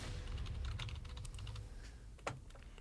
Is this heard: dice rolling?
yes